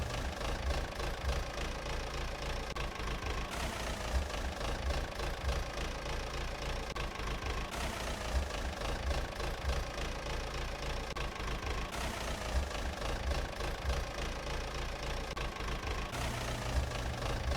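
MTZ tractor engine running at a steady idle in a hay meadow during mowing work, a faint continuous diesel chug with a regular knocking rhythm and no talk.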